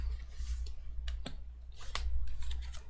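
Tarot cards being shuffled give sharp, irregular clicks and snaps over a low background hum, with a few louder flicks as cards slip and fall.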